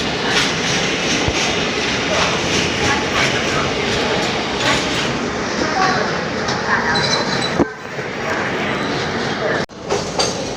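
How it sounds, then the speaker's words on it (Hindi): Passenger train on the Porbandar–Howrah special pulling away from Surat station in heavy rain, a steady loud rumble of wheels and carriage noise with rain hiss throughout, briefly dipping near the end; faint voices occasionally beneath. "सूरत से हम लोग डिपार्चर हो चुका है"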